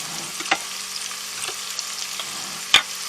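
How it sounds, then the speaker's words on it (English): Sautéing in melted butter and olive oil in a pan, a steady soft sizzle with a few sharp utensil clacks against the pan as contents are stirred, no voices. "we're just going to kind of lightly saute these."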